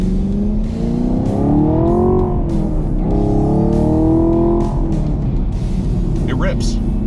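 A 2022 Chevrolet Camaro LT1 with a 6.2-liter V8 and six-speed manual accelerates hard, the engine note climbing in pitch through a gear, dropping at the shift, then rising again, loud and close.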